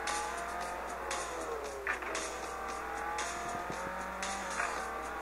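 Racing car engine in the mobile game Real Racing 3, played on an HTC One phone: a steady, moderately loud engine drone with rising and falling revs through gear changes, plus a few brief tire or impact noises, with no talking.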